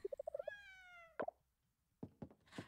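In the farming game Coral Island, a cat gives a rapid run of short chirps and then one long clear meow, followed by a few soft knocks and thumps.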